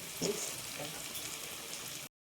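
Masala for ghugni sizzles and fries in a pan, a steady close hiss with a brief louder burst near the start before cutting to silence.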